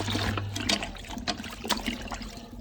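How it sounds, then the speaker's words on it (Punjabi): Washed cloth lining is wrung out into a basin of water, with close splashes, trickles and dribbling runoff in irregular bursts and no voices over it. "ਇਹਨੂੰ ਆਪਾਂ ਨਿਚੋੜ ਕੇ ਜੀ ਚੰਗੀ ਤਰ੍ਹਾਂ ਇਧਰਲੇ ਪਾਣੀ ਵਿੱਚ ਕੱਢ ਲੈਣੇ ਆ ਜੀ ਸਾਫ਼ ਚ"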